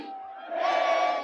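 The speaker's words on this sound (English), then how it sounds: "Soccer in America will soon start to sound like this." A large soccer stadium crowd roars in unison from a distance, swelling louder halfway through into a sustained chant-like cheer.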